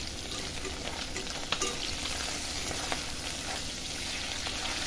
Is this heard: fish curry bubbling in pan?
yes